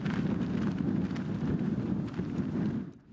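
Strong wind buffets the microphone on open steppe at a front line, a dense low roar and rumble that holds steady for a few seconds before easing off at the end.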